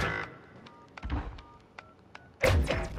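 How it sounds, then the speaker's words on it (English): A bomb being planted in a search-and-destroy video game: a run of short beeping keypad tones, then a heavy thunk and a louder burst at the end. "The bomb has been planted."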